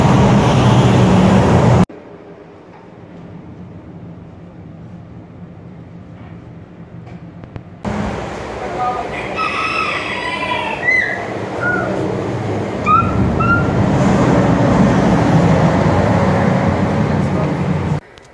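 Trucks pass on a highway in Mexico with a loud, rushing roar, a brief quieter lull, then heavy traffic noise building again, with a few faint bird chirps over it.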